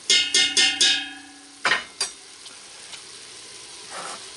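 Sausage browns in oil in a pot for jambalaya. A rapid run of metallic scrapes and clinks from stirring opens the sound, then a few sharper knocks fade into a soft, close sizzle, with no voices.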